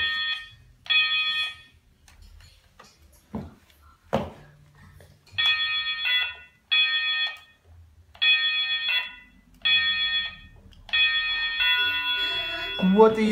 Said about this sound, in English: so you've discovered how to ring the bell now